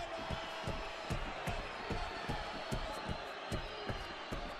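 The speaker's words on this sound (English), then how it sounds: "This crowd is going crazy." A wrestling crowd roars steadily through a show, loud and continuous, with sharp slams and thuds repeating under the noise.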